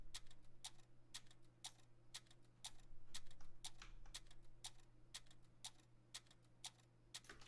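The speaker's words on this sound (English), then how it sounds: "Then we have this crank loop." A crank loop sample from a sample pack, a steady run of sharp clicky ticks repeating on an even rhythm over a low sustained hum, quiet and dry, with no voices.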